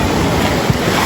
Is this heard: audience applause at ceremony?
no